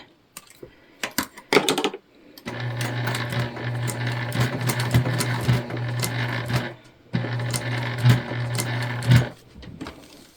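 Sewing machine backstitching through a thick padded placemat with batting inside. Short taps come first, then two loud sustained runs of rapid stitching separated by a brief pause, heard up close.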